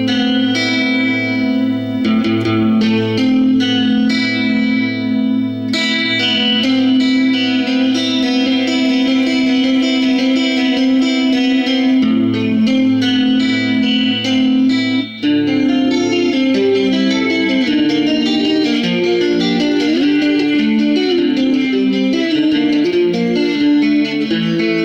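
Gibson SG Custom guitar from 1974 played through its Seth Lover neck humbucker, coil-tapped into single-coil mode, ringing sustained chords and melodic notes with a bright, chorus-tinged effects tone, loud and steady with no talking.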